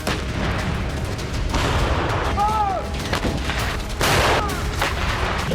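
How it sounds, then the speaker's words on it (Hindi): British Army tanks and artillery fire during a winter exercise in Finnish Lapland in sub-zero cold, with several heavy booming blasts and crackling gunfire echoing over a constant rumble, plus a brief high whistling tone midway. "ब्रिटिश आर्मी फिनलैंड में -डिग्री तापमान में अपने टैंक और तोपों से युद्धाभ्यास कर रही है।"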